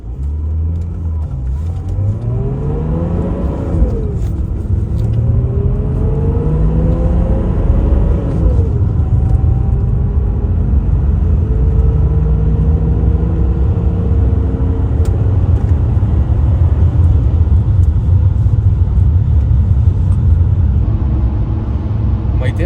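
A BMW E39 car accelerates hard, its engine note climbing and falling in a series of rising sweeps as it works through the gears. A loud, steady road roar sits underneath throughout.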